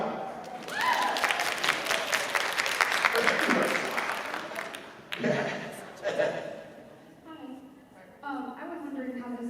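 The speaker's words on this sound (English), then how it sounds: "You can clap on that." Audience applause at a fan convention panel, a sustained wash of clapping that rises, then tapers with a few renewed bursts and some voices mixed in.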